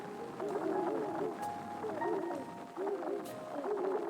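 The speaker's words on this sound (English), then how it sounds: "Get away, pigeons." Pigeons in the Genesis Noir video game coo in repeated soft, throaty phrases, several rounds of rolling calls close by over a quiet background.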